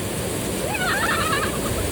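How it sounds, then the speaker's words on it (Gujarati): A waterfall near Jamnagar gives a brief, steady rush of falling water, a broad continuous roar at moderate distance with a faint thin sound briefly rising above it. "મસ્ત ધોધ પડે છે"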